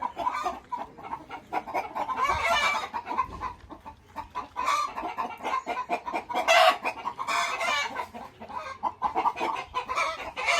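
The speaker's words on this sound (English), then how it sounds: "Quite a few goats and chickens." Several chickens cluck and squawk nearby, overlapping in a busy, continuous chatter with occasional louder calls.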